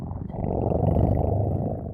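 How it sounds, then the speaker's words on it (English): A tiger lets out a single deep, rumbling roar, close and full-bodied, swelling and holding for about two seconds before cutting off. "This is a tiger."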